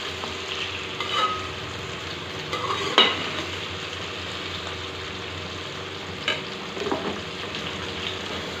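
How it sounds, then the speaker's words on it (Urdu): Okra fries in a pan with a steady close sizzle, broken by a few louder scrapes and clinks as it is stirred. "بھنڈی کو فرائی کرتے ہوئے مجھے تقریباً 10 منٹ ہو چکے ہیں۔"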